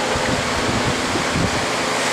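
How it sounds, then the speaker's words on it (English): A Dayton industrial pedestal fan blasts air from about 20 feet away, producing a loud, steady roaring wind rush that buffets the microphone throughout. "I'm getting a big windstorm from it here."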